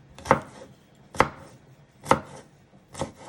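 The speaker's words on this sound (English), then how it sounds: "you first want to finely slice it one way, turn it around" A knife chops food on a cutting board in four crisp, separate strokes spaced about a second apart, close and clear with quiet pauses between cuts.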